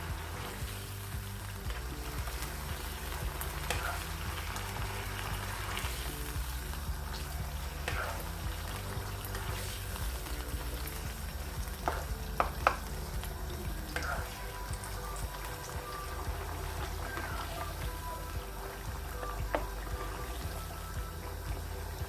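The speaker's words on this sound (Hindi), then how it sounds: "हम इनको साथ मैश कर लेंगे टमाटर को" Tomatoes are mashed and fried over a high gas flame in a handi for a white chicken dish: a steady low sizzle with soft scraping and tapping of a utensil, close and moderately loud, with a faint voice now and then.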